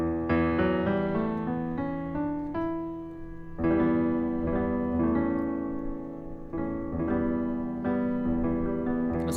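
Melodic instrumental music in the Dorian mode plays at moderate level, with rich harmonic chords and notes shifting every few seconds and no voices.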